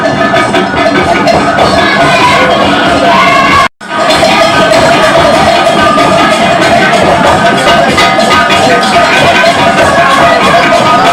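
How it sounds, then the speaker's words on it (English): An audience at the Badagry Diaspora Festival applauds and cheers for a Petite Arts performance, a loud, dense wash of clapping and crowd noise that cuts out briefly for a moment, then resumes at full strength. "can we give the petite arts a round of applause?"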